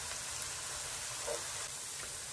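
Mushrooms and onions saute in a pan for a beef stroganoff, giving a steady, dense hiss of sizzling with no talk and no break.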